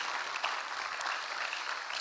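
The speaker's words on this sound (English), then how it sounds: "Let's give Kerry a round of applause." A round of applause for Kerry after a leadership session, with steady, fairly soft clapping from a small audience that continues evenly without talk.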